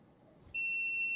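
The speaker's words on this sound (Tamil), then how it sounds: "இப்போ பார்த்தீங்கன்னா பஸ்ஸஸ் சவுண்ட் கேட்குது" Electronic buzzer alarm on a homemade Arduino car speed detector, sounding abruptly after a moment of near silence as a single sustained, piercing high-pitched tone, close and clear.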